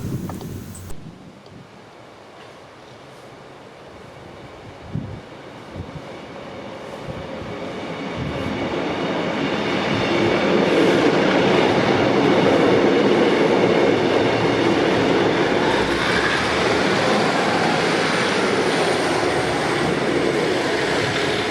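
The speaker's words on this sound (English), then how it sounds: "Here I am again, hoping to catch the empty Pullman on its return journey to Crewe." An empty Pullman passenger train on its return run to Crewe passes, starting as a faint distant rumble and swelling into a loud, sustained rolling roar that holds steady near the end, with no voices.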